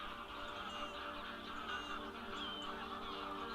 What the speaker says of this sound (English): Some geese are taking off now.